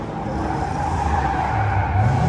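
A heavily modified car with an intercooler and Porsche 997 transmission drives past, giving a loud, steady engine drone with a faint tyre-scrub edge and no voices.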